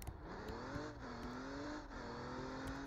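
Car engine in the Roblox game Liberty County, a steady mid-pitched drone with slight pitch rises as the vehicle drives along, alone with no talk.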